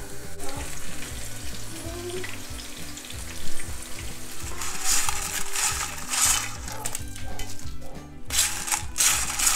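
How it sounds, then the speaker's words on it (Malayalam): Whitebait (netholi) fish frying in hot oil, a steady crackling sizzle with dense popping bursts that swell louder in the second half, alone without voices. "ഇനി നമുക്ക് ആ ബാക്കിയുള്ളതും കൂടെ ഒന്ന് ഫ്രൈ ചെയ്തെടുക്കുക."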